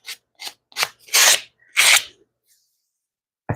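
A carved wooden bear is sanded by hand in six distinct strokes, the later ones longer and louder. The close, raspy scrapes are separated by short pauses and followed by a stretch of silence.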